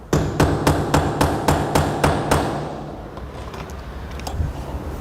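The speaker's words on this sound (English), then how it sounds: "First, you can take a nail and punch the nail head in so it's sitting flat." Hammer driving a nail head flat on a Decra stone-coated roof tile, about nine sharp, close metallic blows in a quick regular rhythm, then quieter background rustle.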